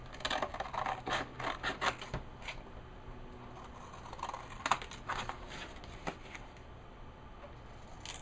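Paper overhang is trimmed off an envelope mini-book, a quiet string of close, crisp snips and scrapes in short bursts, thinning out toward the end.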